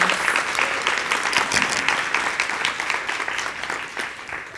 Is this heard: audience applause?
yes